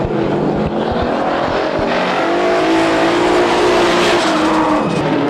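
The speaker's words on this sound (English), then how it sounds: "Two red cars, V8s, lots of horsepower on the track right now." Powerful V8 drift cars roar and rev continuously, engines screaming with tire squeal and skidding as they slide around the track in tandem competition, loud and close.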